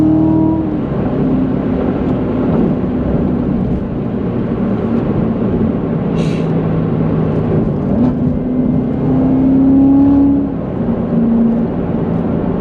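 Chevrolet Corvette C7 Z06 sports car accelerating hard, its loud engine tone climbing steadily with a shift from second to third gear near the end, close and continuous throughout.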